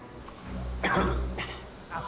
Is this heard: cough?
yes